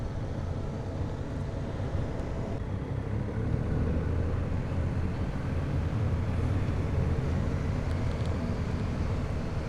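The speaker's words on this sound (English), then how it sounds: "Oh, car on the right." A car passes on the right of a BMW R1250GS Rallye TE motorcycle on the road, its noise blending into steady, loud engine and wind rumble with no distinct peak.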